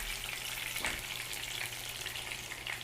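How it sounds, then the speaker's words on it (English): Steak frying in hot oil in a home kitchen, a steady dense sizzle with sharp spits and pops scattered throughout, close and fairly loud, no voices. "Be careful for the water, as it might spit with the oil. So that spitting process is gonna happen"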